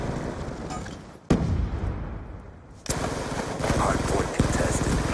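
A video game Hardpoint match bursts with a sudden grenade blast followed by rapid gunfire and repeated loud shots, close and dense, with voices mixed in.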